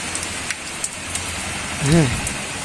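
Heavy rain pours steadily in Manikganj, Bangladesh, a dense, constant hiss heard from shelter under shops, with a brief voice sounding near the end.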